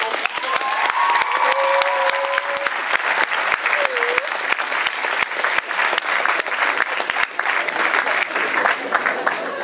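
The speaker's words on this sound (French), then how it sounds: "Je vous demanderai juste un dernier applaudissement pour les 3 acteurs qui sont spécialement." A lecture-hall audience of medical students claps loudly for three actors, dense sharp applause running steadily throughout, with scattered voices and a brief whistle-like call early on under the clapping.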